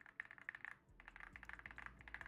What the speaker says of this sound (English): people pay hundreds of dollars to get their keyboards to sound like this